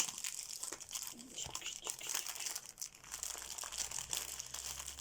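Plastic packaging is torn open and crinkled up close, a continuous rustling and crackling with small tearing bursts throughout.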